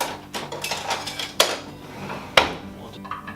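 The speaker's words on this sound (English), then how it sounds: "Okay, I got my plate here. Let me get some tongs." Plate and tongs handled while serving slow cooker ribs: scattered light clinks and scrapes of dishware and metal, with two sharper, louder clacks standing out over quiet kitchen background.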